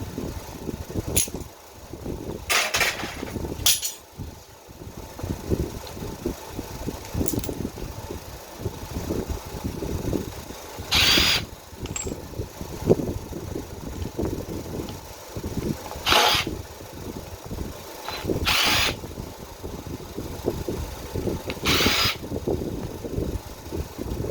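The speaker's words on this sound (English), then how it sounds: "Then I'll get the power tool on it." Power tool driving out the oil pump bolts on a Briggs & Stratton twin-cylinder engine, sounding as several short whirring bursts spaced a few seconds apart over a steady mechanical background.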